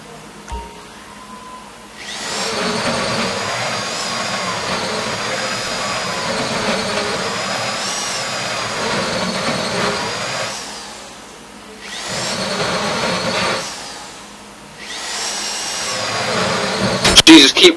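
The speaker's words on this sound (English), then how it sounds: "this drilling is actually quite difficult" A drill runs during a heist in GTA, the Fleeca Job finale. It makes loud, harsh whining bursts of several seconds each, separated by short quieter gaps, with a voice talking in between.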